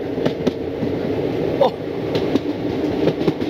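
Train running along a curve beside backwaters, a close rumbling of wheels with a few sharp clanks and knocks standing out from the steady noise.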